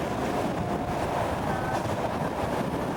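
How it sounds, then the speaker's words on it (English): A Euro passenger train runs past vineyards. Its loud, steady rail rumble and rolling wheel noise fill all three seconds, with no talking. "That should be the Euro train here."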